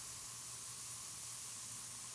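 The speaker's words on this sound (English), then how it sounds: "Let's go into the big spray mode for this." Continuous broad spray hiss from a paint sprayer in Spray Paint Simulator, a steady soft airy wash held evenly throughout with no voices.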